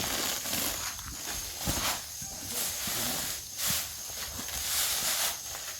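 Wheat bran pours from a 40 kg sack for pig feed, a soft continuous hissing rush that swells and eases in waves, fairly quiet and close.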